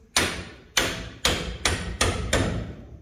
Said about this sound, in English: Handy dandy hammer.